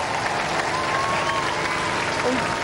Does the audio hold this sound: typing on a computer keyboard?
no